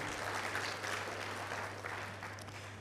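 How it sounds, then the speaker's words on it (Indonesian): Soft applause from an audience at an automotive sales seminar in Jakarta, a faint continuous patter of clapping with a low steady hum underneath and no voices. "Tepuk tangan untuk Atomi Bapak Ibu"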